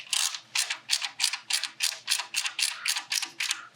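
Ratcheting screwdriver tightening screws during an AMD Ryzen 7 7800X3D custom PC build: a steady run of about a dozen quick, close mechanical clicking bursts in an even rhythm, with no talking.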